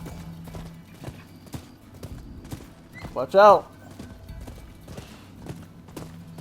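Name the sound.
horse galloping in video game Rise of the Ronin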